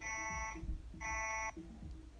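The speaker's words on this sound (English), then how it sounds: "okay, I hear you, timer." A timer alarm sounds two sustained electronic beeps, each about half a second, separated by a short gap and fairly faint in a quiet room.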